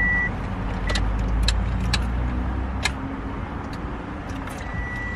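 A car being driven, with a low steady engine rumble close by, a few faint beeps and light clicks over it.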